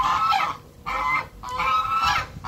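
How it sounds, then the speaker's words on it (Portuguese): Geese honk loudly and close by, a series of harsh, nasal calls in quick uneven bursts with no speech over them. "Aqui é o ganso. Os gansos."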